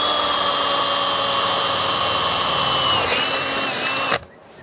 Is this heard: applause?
no